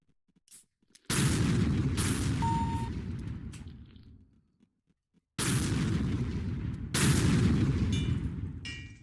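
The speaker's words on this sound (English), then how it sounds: "you can pogo with a rocket launcher" Roblox Combat Initiation rocket launcher blasts hit as loud, booming explosions that roar and fade over a couple of seconds each, with three blasts separated by quieter gaps and no talk.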